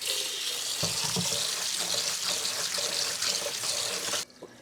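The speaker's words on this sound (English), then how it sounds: "Wash this rice really thoroughly, about 3 to 4 times." Tap water runs steadily into a kitchen sink while rice is rinsed under it, a continuous close splashing and gurgling that stops abruptly near the end.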